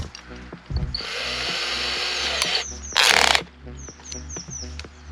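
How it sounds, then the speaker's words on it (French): Power drill with a 16 mm bit boring into material while building a cheap water pump, a near, loud whining run of about two seconds, a short harsher burst, then brief stops and clicks. "On va venir percer ça."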